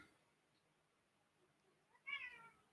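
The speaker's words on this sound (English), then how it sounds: "there's a cat in the background" A cat meows once, fairly faint in the background, as a short rising call near the end after a quiet stretch.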